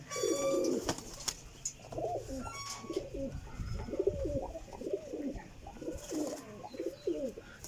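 Several flying pigeons in a room coo in repeated soft, rolling phrases, close by, with a few wing flutters and faint background noise.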